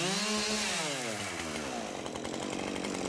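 A Husqvarna chainsaw cuts through a storm-damaged tree. The engine revs up loudly with a falling pitch, then settles into a steady, close, continuous buzzing whine as it bites into the wood.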